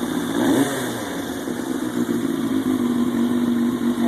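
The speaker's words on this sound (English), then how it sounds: "the bike seems to be running pretty good at this stage" A 2000 Yamaha YZF-R1 sport bike, freshly rebuilt, idles steadily nearby with a smooth, even engine drone and a faint whine, no throttle blips, heard alone.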